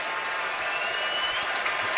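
A Brewers home stadium crowd at NLCS Game 1 keeps up a dense, continuous roar and clapping, sustained at a steady level throughout with no voices over it.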